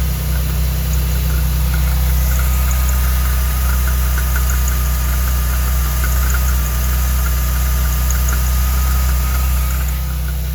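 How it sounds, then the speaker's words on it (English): A 1989 Chevy Celebrity engine idles steadily at close range, with a faint, continuous whine and light ticking from the belt tensioner riding over the low, even rumble. There are no voices. "I think the tensioner is making some noise"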